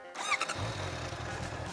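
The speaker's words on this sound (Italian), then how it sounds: "Avviamo il motore." A Honda motorcycle fitted with the E-Clutch electronic clutch starts up: a brief whirring starter squeal, then the engine catches and settles into a low, steady idle, close and alone.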